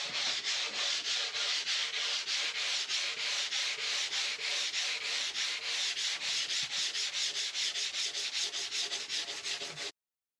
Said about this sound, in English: now that we've been over the entire thing hand sanding